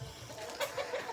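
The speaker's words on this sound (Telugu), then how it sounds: "కోడిపాప వచ్చినాయి." Chickens and chicks clucking at close range, a few short soft calls rising over steady low background noise, with no talk.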